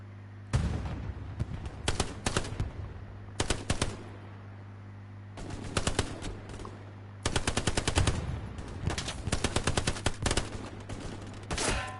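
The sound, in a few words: machine gun fire in video game Hell Let Loose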